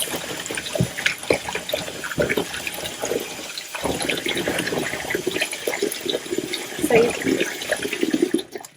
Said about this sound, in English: So you keep rinsing until the water is clear